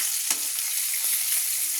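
Rohu fish pieces sizzle steadily in hot oil after being flipped, a dense continuous frying hiss with two brief spatula clicks, close and alone without voices.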